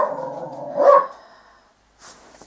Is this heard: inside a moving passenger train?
no